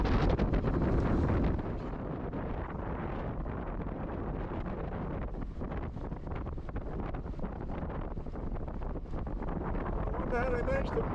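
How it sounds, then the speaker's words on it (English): Blustery wind buffets a sailboat as it enters a harbour in Portugal, a loud, rough roar of wind on the microphone that surges at the start and holds through the rest of the clip. "It's quite blustery."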